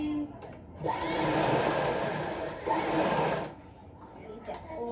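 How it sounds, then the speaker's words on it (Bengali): A sewing machine stitches up torn seams on bags, running close and loud in two long bursts with a brief pause between, while a voice speaks in the quieter moments before and after. "এগুলো এখন সেলাই করছি"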